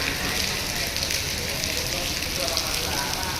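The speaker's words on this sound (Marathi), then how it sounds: "आणि पाऊस चालू झालाय" Steady, dense rain pours down outdoors on a morning, a loud even hiss that runs unbroken for the whole stretch with no pauses or separate drops standing out.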